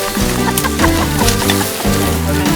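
Chickens cluck repeatedly amid a busy, steady tonal background, with several short bird calls overlapping throughout.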